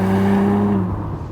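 The 2.9-liter bi-turbo six-cylinder engine of a Porsche Macan GTS hums close by in a smooth, steady tone that fades as the revs drop away.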